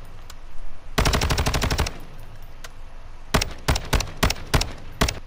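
Bursts of automatic weapon fire from a gun in Modern Warfare II, fired at longer range: a long sustained rattle, then several short rapid bursts and single cracks, loud and close with no talking.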